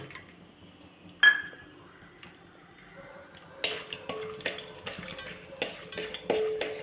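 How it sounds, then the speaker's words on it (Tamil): Cashews and a few almonds frying in ghee in a pan, with a soft sizzle, stirring and scraping, and a few sharp clinks of a utensil against the pan. "இதில் முந்திரி பருப்பு, கொஞ்சமாக பாதாம், இதை போட்டு வறுத்தெடுத்துடு."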